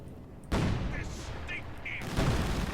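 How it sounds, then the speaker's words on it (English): Dense rumbling gunfire and explosions fill a World War II battle in the strategy game Company of Heroes 2, continuous and loud with a sudden surge, while short radio-style voice lines sound over it. "Firing on our vehicle."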